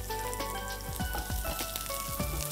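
Onions and curry leaves sizzling in hot oil in a pan, a steady, loud crackling fry with occasional sharper pops and faint stirring clatter, close up with no talking.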